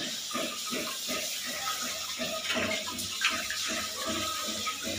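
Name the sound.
water running while washing goat meat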